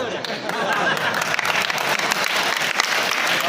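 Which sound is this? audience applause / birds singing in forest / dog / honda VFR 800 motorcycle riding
audience applause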